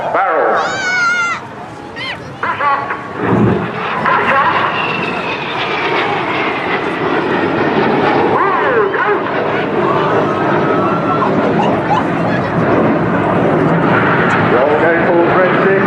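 Red Arrows display jets roaring past at an airshow as the Synchro pair close on each other, a loud sustained jet rumble under crowd babble and commentary.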